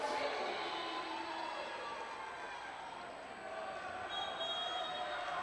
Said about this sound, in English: the crowd comes to life tonight